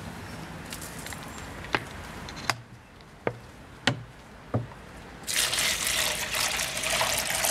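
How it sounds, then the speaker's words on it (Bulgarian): Water poured out for a street cat, a loud broadband rush of liquid filling the last two seconds after a few sharp clicks and knocks, fairly close. "Чакай да му сипем вода"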